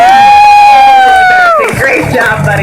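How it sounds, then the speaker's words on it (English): A long, sustained whistle-like tone slides downward and stops, then a brief burst of audience cheering and whooping follows at an animal show, where a performing animal named Nick is rewarded for his behavior. "we can make a big round of applause"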